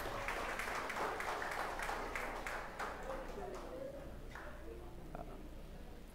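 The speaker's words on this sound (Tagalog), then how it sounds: "Palakpakan po natin si Jesus" A church congregation claps in quick, dense applause that gradually thins and fades. Distant voices sound beneath it.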